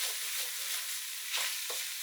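Beef frying in a pot for a pasta bake, a dense hissing sizzle with a couple of brief stirring scrapes, close and steady with no talking.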